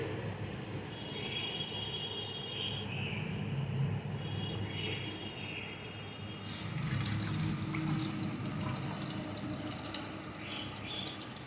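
Water running from a tap over a bowl of flattened rice (chira) being rinsed clean, a steady close wash of splashing and trickling with small surges partway through.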